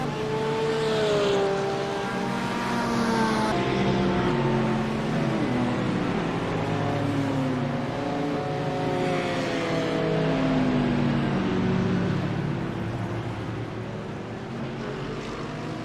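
GT3 race cars in the iRacing sim at Sandown roar past, their engines rising and falling through gear changes. Several cars overlap in a loud, continuous drone with no speech heard.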